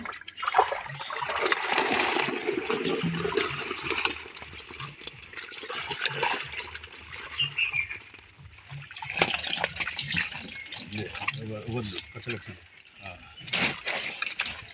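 Water gushes and splashes steadily from a pipe lifted out of a high-density biofloc tank used to harvest stinging catfish, loud and close, rushing continuously with bursts of spatter.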